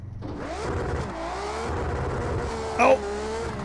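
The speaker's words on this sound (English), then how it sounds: "see how this car reacts when I just slam on the gas" A race car in Project Cars 2 accelerates at full throttle, its engine note climbing steadily in pitch with a brief sharp burst near the end, while someone talks over it.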